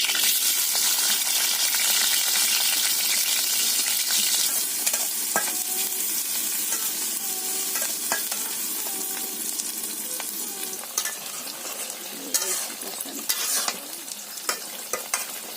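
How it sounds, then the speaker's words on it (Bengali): Green chilies and onions fry in oil with a loud, dense crackle, stirred with scraping and occasional clinks that grow sparser and more sporadic toward the end; no talking. "ভাজি করবো, তার জন্য তেল দিয়ে দিলাম, কাঁচামরিচ, পেঁয়াজ"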